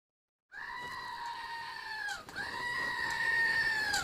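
A goat gives a long, loud, wavering bleat, breaks off briefly, then bleats again in a second sustained cry, close by and with no talking over it.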